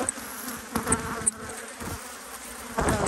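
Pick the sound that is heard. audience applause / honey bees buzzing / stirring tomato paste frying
honey bees buzzing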